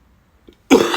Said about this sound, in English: Just a minute, I have to cough.